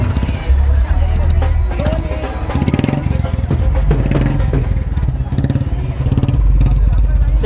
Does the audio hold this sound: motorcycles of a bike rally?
yes